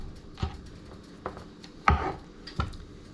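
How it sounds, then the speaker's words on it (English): A knife chops green scallions on a cutting board in four separate, sharp strikes spread unevenly across a few seconds, close and fairly loud with quiet between cuts. "Next, we're gonna cut up the green scallions or green onions"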